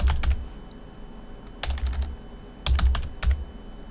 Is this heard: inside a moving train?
no